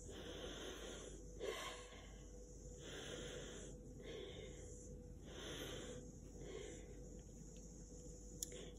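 Slow, deep breathing at close range, a series of about six drawn-out inhales and exhales in a steady rhythm over a faint background hum.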